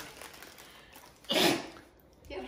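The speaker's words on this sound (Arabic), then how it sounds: "وش نقول لما نعطس؟" One short, fairly loud human sneeze bursts out once amid quiet room sound, followed by a faint breathy noise.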